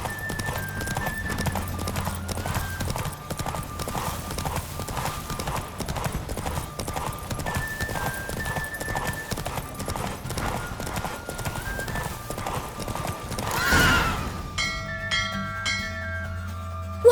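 A horse gallops in The Witcher 3 video game, its hoofbeats a fast, steady clip-clop that runs continuously over game sounds, then ends in a loud burst followed by ringing bell-like chimes.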